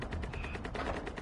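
Rapid gunfire from a DMZ combat video game crackles in a quick series of close, loud shots that fill a brief moment without pause.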